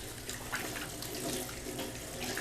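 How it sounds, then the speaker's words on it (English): A kitchen tap runs in a steady rush of water while hands are rinsed under it, with close, continuous splashing and no talking. "Let me rinse off here."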